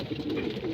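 Racing pigeons coo softly in a loft at feeding time, a continuous low murmur of overlapping calls at moderate level with no voices.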